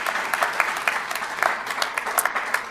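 A school district governing board meeting audience gives a short round of applause, with scattered, fairly crisp hand claps blending into a moderate steady patter across the room.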